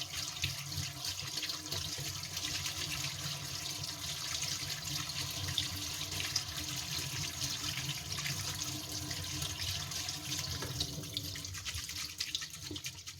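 Cold tap water runs steadily into a sink while butter mushrooms are rinsed under it, a soft continuous splashing stream with slight sputters near the end.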